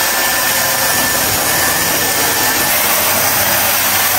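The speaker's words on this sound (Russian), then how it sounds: "Начнем мы, конечно же, с сушки моих волос" A Dyson hair dryer blows loud and close as freshly washed hair is dried, a constant dense airy rush with a faint high whine that holds unbroken and at the same level throughout.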